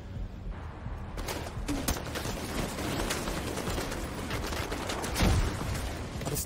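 Rapid turret gunfire in The Division 2 rattles as a dense, sustained stream of shots, with a louder burst of impacts near the end.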